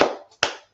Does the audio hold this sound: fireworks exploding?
no